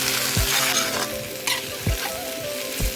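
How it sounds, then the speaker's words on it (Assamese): Meat and onions sizzle loudly in a hot pan, with a constant frying hiss broken by several sharp scrapes and knocks as a utensil stirs them. Nobody speaks. "পিঁয়াজ দি পেলাই এতিয়া অলপ দেৰি ভাজিম"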